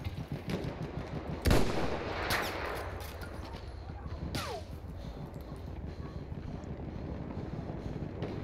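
Gunfire in the World War I shooter Battlefield 1 multiplayer, with one sharp, loud shot cracking out early, then fainter distant reports over steady wind and battlefield rumble.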